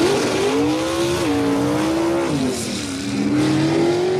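A drag race car runs down the dragstrip at Farmington Dragway, a loud close engine drone holding one pitch that rises and dips slightly as it pulls away, steady throughout.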